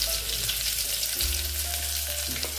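Chopped garlic cloves sizzle in hot tempering oil with mustard seeds and cumin, a steady close frying hiss with faint crackles, no voices.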